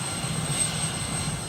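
A Sokol helicopter of the Philippine Air Force flies over the sea toward an island, giving a steady, loud, continuous rotor and engine drone with no voices.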